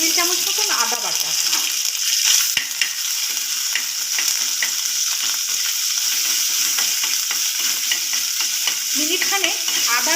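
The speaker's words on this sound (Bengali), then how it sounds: "আদার কাঁচা গন্ধটাকে ছাড়ানোর জন্য একটু তেলের মধ্যে ভেজে নিচ্ছি" Ginger paste frying in hot oil with bay leaf and dried red chilli, stirred in a pan, giving a loud, continuous sizzle with scraping stirs throughout.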